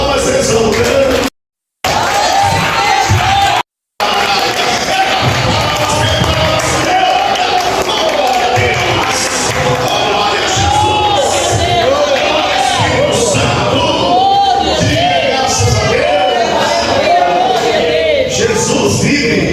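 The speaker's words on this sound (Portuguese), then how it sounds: "é uma salva de palmas exaltando" A church congregation fills the room with dense, continuous clapping and crowd noise, loud and close, with rhythmic thumps and raised voices over about twenty seconds, broken by two brief silent gaps.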